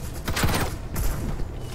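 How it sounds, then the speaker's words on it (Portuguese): Burst of video game gunfire from Farlight 84, dense rapid shots filling under two seconds at steady loudness, with a brief voice underneath. "Tô trocando tiro."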